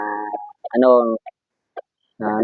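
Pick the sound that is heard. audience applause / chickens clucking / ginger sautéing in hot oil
chickens clucking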